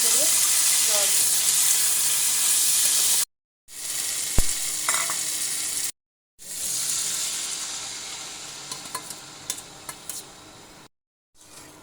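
Cumin paste with green and dried chili pastes frying in a pan for a Bengali fish curry, a steady loud sizzle with scraping stirs and occasional clinks, broken by brief silent gaps.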